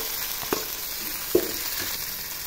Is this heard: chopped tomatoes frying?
yes